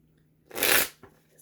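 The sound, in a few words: shuffling tarot cards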